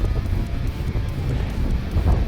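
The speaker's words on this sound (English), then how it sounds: "Man, it's windy." Strong wind gusts outdoors at an air-conditioning service call, buffeting the microphone with a low, rumbling roar that surges and dips unevenly, no speech present.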